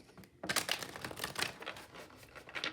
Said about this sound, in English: See, I don't like shuffling the cards like this.